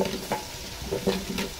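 Garlic added to a hot pan sizzles and fries while being stirred, part of a large batch of feijoada and rice cooked outdoors in Mozambique; a close, steady crackle with a few louder stirring bursts and no talking.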